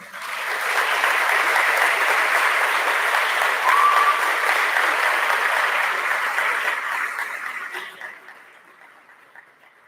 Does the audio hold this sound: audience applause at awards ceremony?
yes